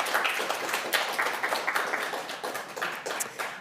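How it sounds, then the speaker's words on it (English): Audience at a live startup pitch event applauding, a steady patter of many hands clapping at moderate loudness in a hall. "Let's give a big round of applause to SEPCO."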